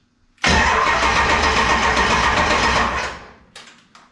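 A 7.3 Powerstroke diesel engine in a swap project with standalone wiring cranks loudly and up close in one steady burst of about two and a half seconds. It then winds down, leaving a few short trailing clicks and rattles.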